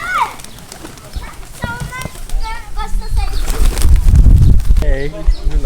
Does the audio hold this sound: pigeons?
yes